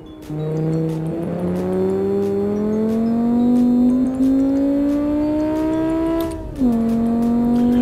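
Car engine on a race track, a loud, close drone that climbs steadily in pitch as it accelerates, briefly drops with a gear change, then pulls again, with faint tire noise.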